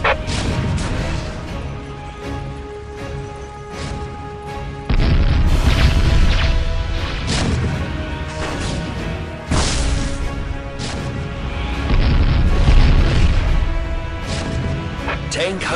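Repeated heavy booms and crashing explosions from Warhammer 40k: Dawn of War siege cannons and laser artillery, loud and close, arriving in bursts every few seconds over a sustained rumbling game soundscape.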